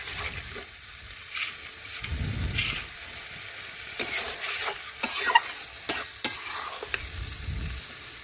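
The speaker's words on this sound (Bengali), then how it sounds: "এইভাবে বেশ কিছুক্ষণ ধরে নাড়াচাড়া করতে হবে, তাহলে চিকেনটা ভাজা হয়ে যাবে" Chicken with spices stirred and fried in a pan, with a soft continuous sizzle under irregular scraping and clacking strokes of the spatula against the pan, fairly quiet and close.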